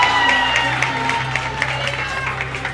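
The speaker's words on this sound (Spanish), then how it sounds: "Aplauso para él también, por favor" Audience at a live pageant show applauds and cheers steadily, a continuous wash of clapping with occasional whoops, while music plays underneath.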